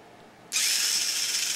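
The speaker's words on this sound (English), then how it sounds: "Right now I've got this connected so that we can see if this motor's gonna work." A small electric motor in a hobby test circuit for a steering and axle build switches on abruptly and runs with a steady, high-pitched whine, close and alone with no talk.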